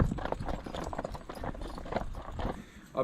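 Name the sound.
Clydesdale cross cob mare's hooves clip-clopping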